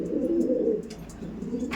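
Pigeons at a seller's loft coo in low, throaty, rolling murmurs, close and clear, one steady bout followed by a softer second coo.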